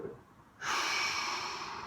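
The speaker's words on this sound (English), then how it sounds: "I want you to take a breath there." A single deep breath during a back stretch: one long, close, airy inhale or exhale that starts abruptly and slowly fades, following a moment of quiet.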